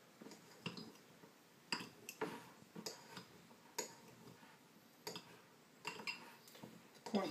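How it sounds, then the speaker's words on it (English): Knife tapping through avocado quarters in a bowl, a sparse, irregular series of soft clicks and taps against the bowl, quiet and close with no talking. "I just chop them up like this"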